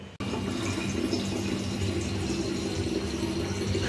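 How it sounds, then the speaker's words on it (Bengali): Drinking water pours steadily from a water filter into bottles in a home kitchen, a continuous close trickle following a brief click at the start. "চলো আমি ফিল্টার থেকে বোতলে খাবারের জলগুলো ভরে নিই"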